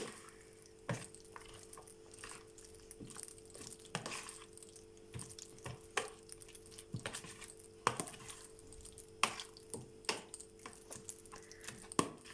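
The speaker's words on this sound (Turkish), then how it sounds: "Mayonezimi ilave ediyorum. Güzelce karıştırıyorum." Mayonnaise being stirred into a purple cabbage and yogurt salad, heard as a steady series of soft, wet clicks and scrapes from a spoon against the bowl, close by with no talking.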